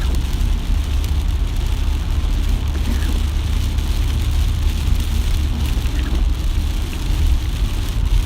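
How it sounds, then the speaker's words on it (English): Steady rain drumming on a car while driving on a wet road toward Piscataway, New Jersey, with a constant low road and engine rumble underneath and a dense hiss of raindrops throughout, loud and unbroken. "it certainly feels like I'm dragging the rain with me"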